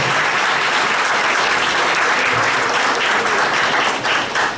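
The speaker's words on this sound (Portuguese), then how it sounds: "Merece uma salva de palmas." Bar association members at an OAB event in Porto Seguro give a full round of applause for President Arruda, loud, dense clapping sustained throughout before easing at the very end.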